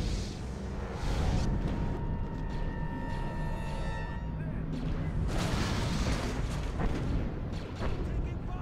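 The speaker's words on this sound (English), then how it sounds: "Why is everyone shooting at me?" Blaster and gunfire crackle in a Star Wars video game as a player comes under attack, a dense, steady rumble of shots and booms with faint talk beneath.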